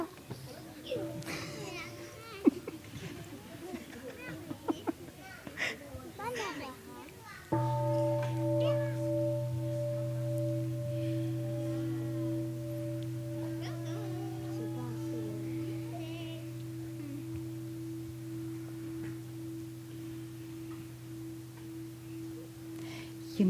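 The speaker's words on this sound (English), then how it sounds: "Can we have a sound of the bell?" A mindfulness bell is struck once and its steady tone rings on for over fifteen seconds, sustained and clear, after children's chatter and movement in a hall at a summer retreat.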